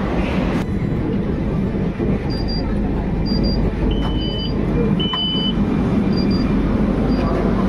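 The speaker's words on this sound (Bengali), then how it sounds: "চলে এসছে মেট্রো" A metro train arrives at a station, rumbling steadily close by with broadband roar, while faint electronic beeps and chimes sound intermittently over the noise.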